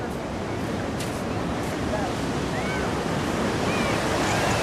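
Ocean waves heard from the pier at Ocean Beach, San Diego at sunset, a constant broad wash of surf with wind buffeting the microphone and faint distant bird calls.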